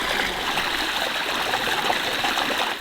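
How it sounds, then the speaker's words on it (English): A stream flows near a mill, a close, continuous bright rush and babble of water that stays steady and fairly loud throughout. "The sound of the water is so nice right now."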